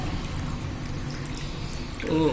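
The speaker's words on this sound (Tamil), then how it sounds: "இந்த தண்ணியை ஊற்றி கொதிக்க வைப்போம்" Thin coconut milk poured into a pot to boil for paal kozhukattai, a sweet dumpling dish: a soft, faint splashing of liquid that rises into a brief louder pour near the end.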